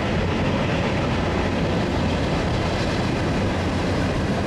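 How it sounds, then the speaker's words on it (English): A train passes close by as a continuous loud rumbling roar of rolling railcars, steady throughout with no voices. "That's what happens when you're watching trains. They come by when you least expect it."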